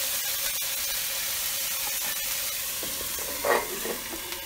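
Garlic and onions sizzling in a lidded pan with thick venison steaks over turned-down heat, a steady dense hiss with a brief louder spatter near the end, no voices.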